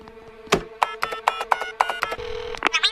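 A cartoon telephone is dialed: a steady dial tone runs under a quick series of sharp button beeps, about ten in a row, ending with a few brighter clicks and tones.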